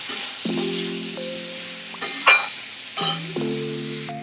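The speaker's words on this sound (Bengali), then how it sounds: "মশলাগুলো দিয়ে ভালো করে এবার একটুখানি মিশিয়ে দেবো" Spices, salt and a little sugar are stirred into vegetables in a pan for a fish-head chhyachra, with a soft sizzle, scraping and a few clinks of the spatula against the pan, close and fairly quiet.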